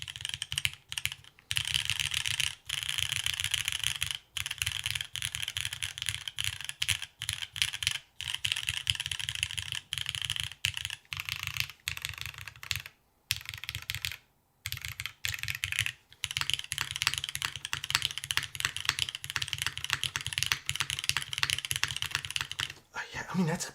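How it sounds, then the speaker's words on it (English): Continuous typing on a Keycult No. 2 tenkeyless mechanical keyboard, a dense stream of close, crisp keystrokes with a few short pauses, and a low hum running under it. "that's a pretty solid sounding keyboard"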